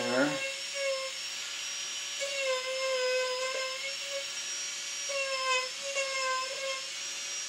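A Marathon micro motor spins a knife edge cutter with a steady, thin high-pitched whine that rises and dips in pitch as the bit bites and eases, running close and continuous under light background noise.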